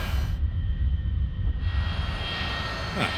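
A-4E Skyhawk jet in a flight simulator game, with a loud steady engine roar and low rumble throughout the landing, and a brief rising whine near the end.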